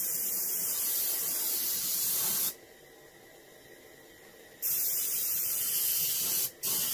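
A continuous, loud hiss of spray paint laying a gloss top coat on a reproduction Warmouth fishing lure, steady for about two and a half seconds, then stopping, resuming for two seconds, with a brief gap near the end.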